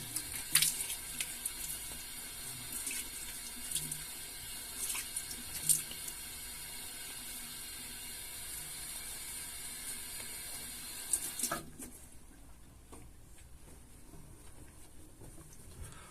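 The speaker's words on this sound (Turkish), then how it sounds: "Dostlar yüzümü yıkıyorum." Tap water runs steadily into a sink while a face is washed, with splashes and patter up close, then the flow cuts off near the end, leaving a quiet room.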